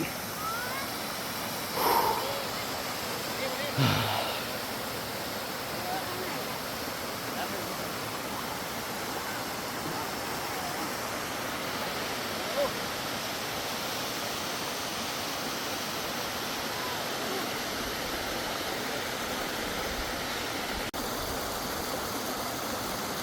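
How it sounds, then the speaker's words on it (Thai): Steady broadband rush of Tham Phra Waterfall in Bueng Kan, Thailand, fills the whole stretch, constant and fairly close, with a couple of brief faint sounds near the start. "นี่นะครับ น้ำตกถ้ำพระ จังหวัดบึงการครับ"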